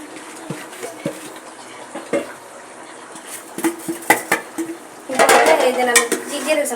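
Metal utensils clink and scrape against a pot in a series of sharp knocks, then a burst of bubbling and splashing as jeeraga samba rice goes into boiling water.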